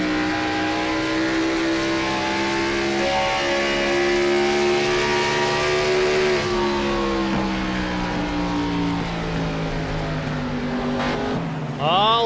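A NASCAR Gen 6 Cup Series stock car at Nashville revs hard as the driver works the throttle, a loud sustained engine roar with rising and falling pitch and a sharp drop near the end, under steady race commentary.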